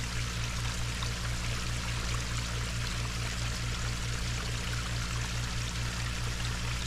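Cool water flowing steadily into a long backyard pond with a waterfall, a continuous close rushing splash with a low rumbling undertone and no voices.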